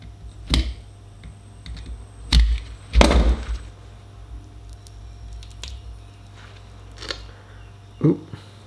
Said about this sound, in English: So if you score it, it tends to just peel away